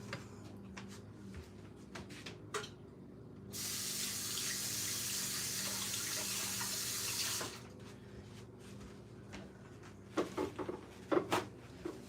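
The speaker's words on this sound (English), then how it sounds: "Now I need to wash my hands real quick." A kitchen tap runs for a few seconds while hands are washed under it, a steady splashing hiss set between quieter clinks and small kitchen handling noises.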